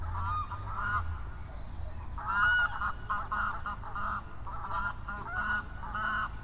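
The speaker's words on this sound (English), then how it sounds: "Birds are busy today." Geese honk repeatedly at a clay pit fishing lake that serves as a wildfowl sanctuary, the calls coming in bursts of overlapping cries at moderate distance over a low steady rumble.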